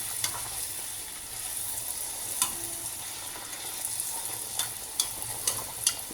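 Poori frying in hot oil gives a steady soft sizzle with occasional sharp crackles and small pops, close but quiet, with no talking.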